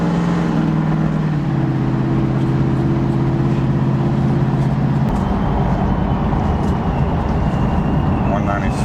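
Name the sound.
procharged 2002 Pontiac Trans Am running on dyno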